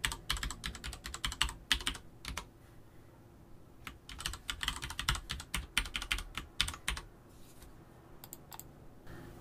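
A computer keyboard clatters as a username and password are typed in during VPN setup: rapid, irregular bursts of close keystrokes with short pauses, and no voices.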